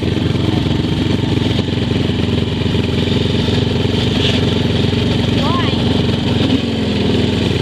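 An A100 motorbike engine runs steadily while the bike is stopped on a trail, a loud, close, continuous idle that fills the whole stretch, with voices faintly over it.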